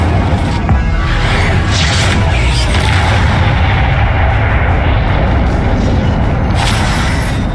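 Spell explosions in Hogwarts Legacy make a loud, continuous rumbling roar of blasts and crashes, with a few brighter bursts standing out from the steady din.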